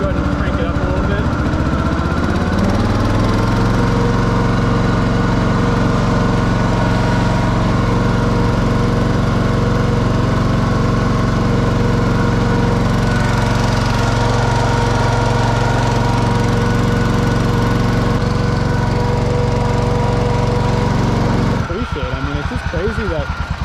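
John Deere Hydro 165 lawn tractor with a carbureted 1988 engine revving up from mid-range, a loud close steady engine roar with a throbbing low rumble that rises briefly, then changes near the end.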